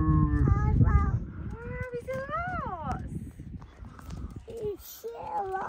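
Cows lowing on a farm, their deep drawn-out moos mixed with nearby people's voices talking over the livestock through most of the stretch.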